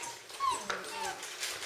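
Czechoslovakian wolfdog puppies, about 39 days old, whimpering softly in a breeding tub as they try to climb out, with thin high whines over quiet background talk.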